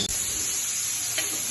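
Onions sizzle steadily in hot ghee in a pan, a close, continuous hiss without pause, made while cooking beef Kabuli pulao.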